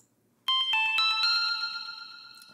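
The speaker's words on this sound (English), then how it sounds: "So that's basically 16th note delay you can hear there." A bright bell-like synth tone hits once and repeats in fast sixteenth-note delay echoes from the Valhalla Supermassive plugin that gradually fade, clear and alone over a quiet background.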